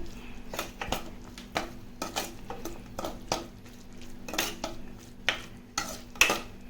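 A spoon scraping and knocking in a pan as vangibath powder is mixed into the dish, with irregular close clatters and strokes over a faint sizzle.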